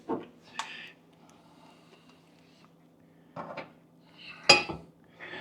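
Crisco goes into a cast iron skillet with a few separate metallic clanks and scrapes of utensil on pan, spaced apart over a quiet background.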